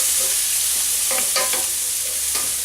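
Potatoes and onions fry in a pan for corned beef hash, with a loud, steady sizzle throughout and a few soft scraping stirs partway through.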